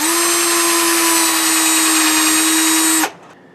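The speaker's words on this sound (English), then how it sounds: "Let's get this other hole drilled here" A power drill bores a hole while building a raised garden bed, a loud, steady high whine close up for about three seconds before cutting off sharply into quiet.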